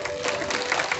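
An audience at a Harinam sankirtan gathering claps hands together, a dense, uneven patter of many hands close by with no steady rhythm.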